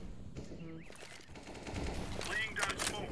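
Rapid bursts of gunfire in a video game, quick crackling shots layered under game sounds and someone talking, moderately loud and continuous.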